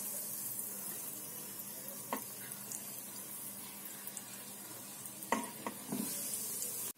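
Egg bondas sizzle in hot oil in a home kitchen, a steady soft frying hiss with a few brief clinks and scrapes from utensils; no one speaks.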